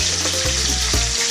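Steady, loud sizzling and crackling of fish frying in hot oil, close up and continuous, with no voices.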